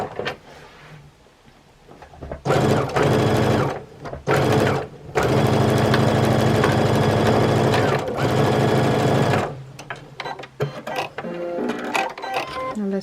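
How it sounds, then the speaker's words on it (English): A sewing machine stitches quilt fabric for a jelly roll picture frame quilt, running loud and steady in several long bursts separated by short pauses, with quieter handling noises at the start and end. "Probably it's best to stitch from this side so you can actually see it line up properly."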